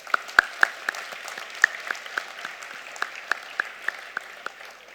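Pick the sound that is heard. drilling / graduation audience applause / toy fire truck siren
graduation audience applause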